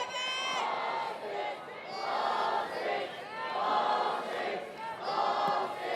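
A college softball crowd at a South Carolina versus Texas A&M game cheers and chants a rhythmic count in swelling waves, loud and sustained for the whole stretch with no talk over it.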